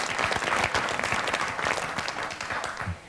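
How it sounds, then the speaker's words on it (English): Studio audience at a late-night talk show breaking into applause, a full sustained roar of clapping that tapers slightly toward the end, heard alone without speech. "Go, you can clap that."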